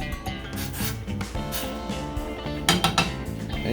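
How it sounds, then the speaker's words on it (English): A spoon stirs beef ribs in a pot, giving continuous close scraping and rubbing with clinks of metal against the pot. The stirring is loud, rhythmic and fairly busy, with no voices. "Give it a little stir real quick."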